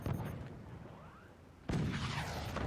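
A cannon firing in the strategy video game Forts, a sharp blast with a booming tail, followed by a second loud impact burst.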